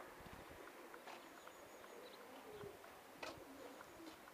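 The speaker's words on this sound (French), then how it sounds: "Et tout cela au son des pigeons qui sont à l'intérieur." Faint pigeons coo softly now and then amid low outdoor ambience, sounding distant and quiet.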